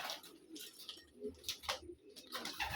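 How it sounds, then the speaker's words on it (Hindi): Runt pigeons, a large fancy breed, coo softly in short repeated phrases at a fancy pigeon breeding farm, with faint chirps and a hum of other birds in the background. "बहुत बड़ी साइज़ का कबूतर है"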